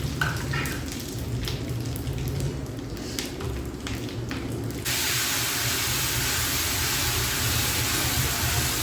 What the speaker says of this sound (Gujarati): તો સરસ મજાનો દાળનો વઘાર થાય છે.